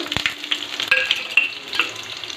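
Onion sizzles in hot oil with cumin, mustard seeds, chana dal and urad dal for a village-style bottle gourd curry, giving a steady close crackle with sharp pops and faint stirring clicks throughout.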